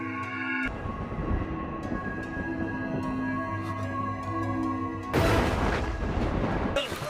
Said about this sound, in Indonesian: Saat itulah pedang tersebut memecahkan lampu hati miliknya dan terjadilah sebuah ledakan